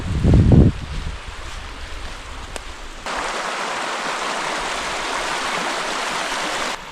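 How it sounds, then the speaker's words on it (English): A small tributary of the Buffalo River in the Arkansas wilderness flows at a light creek crossing, giving a steady broadband rush of running water. It starts with a brief low thump, then turns louder and fuller for most of the clip. "Alright, this is light creek crossing."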